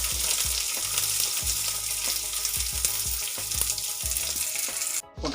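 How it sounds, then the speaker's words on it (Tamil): Garlic sautéing over medium heat in a pan while tomato gravy is prepared, giving a steady loud sizzle and crackle throughout with occasional stirring thumps, then a brief dip near the end. "பூண்டு கொஞ்சம் மீடியமில் வச்சு பூண்டை வதக்குறோம்"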